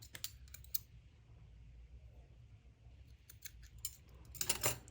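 Scissors cutting yarn after a joining knot is tied, heard as a few quick crisp snips and clicks at the start and a louder cluster near the end, close and otherwise quiet.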